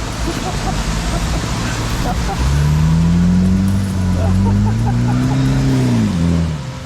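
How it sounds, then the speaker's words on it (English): A four-wheel drive pushes through cyclone floodwater on a road, its engine droning and rising in pitch as it revs, fairly loud and near, holding steady before easing off at the end. "The 4-wheel drive coming the other way. Watch the bow wave."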